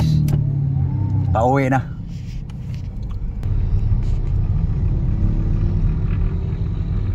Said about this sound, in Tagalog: dito na kami sa loob ng taxi guys